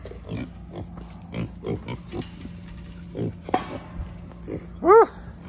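Pigs on a farm grunt in a series of short, close grunts, with a dog-like yelp near the end and a person speaking briefly.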